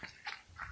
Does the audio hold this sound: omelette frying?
no